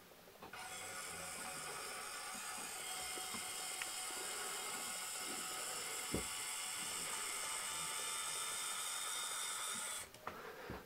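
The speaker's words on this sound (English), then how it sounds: "if I can wire the motor the other way, we should be able to lower it." A small electric motor whirs steadily as it lowers the tipping mechanism of a 3D-printed RC Britains Kane silage trailer, a continuous high mechanical drone for about ten seconds that stops abruptly near the end.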